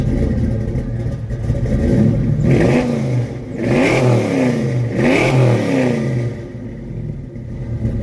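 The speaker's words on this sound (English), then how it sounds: "I'm gonna put a little loop of his car, the way his car sounds" A 1992 Ford Mustang GT Fox-body V8 engine revs repeatedly, rising and falling in three or four surges over a deep, lopey idle, close and loud with no talking.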